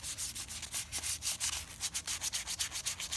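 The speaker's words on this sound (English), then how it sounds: "So that's the sanding glove trick." A sanding glove with sandpaper is rubbed back and forth over a carved wooden walking stick, making rapid, rhythmic, close scratchy strokes, about six per second, with no voices.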